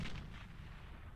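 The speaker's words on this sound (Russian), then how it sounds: "мощно взрывается при самоуничтожении" A unit blows up on self-destruct in the strategy game Beyond All Reason, giving one heavy, close blast that fades into a rumbling tail.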